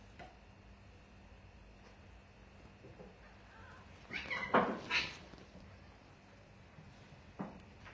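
A young kitten, one of several kept together in a box, gives a couple of short, fairly clear meows midway through, with a quieter chirp later, over a faint, low room hum.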